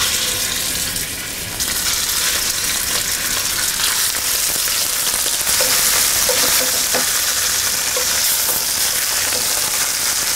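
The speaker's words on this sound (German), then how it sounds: "Wichtig dabei ist, richtig heiß werden lassen, damit die Roulade richtig scharf angebraten wird." Beef roulades searing in smoking-hot oil in a pan, a loud, steady, dense sizzle that fills the whole stretch close up, with no talk.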